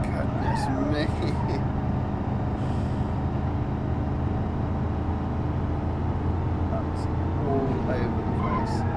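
A car engine in BeamNG.drive, driving uphill slightly with the throttle floored while chasing a roughly ten-year-newer car, a steady loud droning roar throughout with faint hiss bursts.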